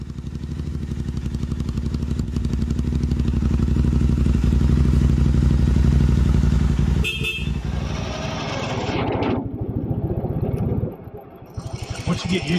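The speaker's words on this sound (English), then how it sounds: "I'm going to hop on a motorcycle and hit the road." A French-made Sherco SEF 450 dual sport motorcycle idles loudly up close, then revs and pulls away, its engine fading as it rides off, with a brief horn-like toot and clatter.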